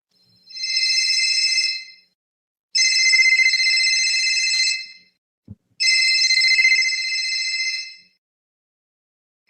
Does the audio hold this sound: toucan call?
no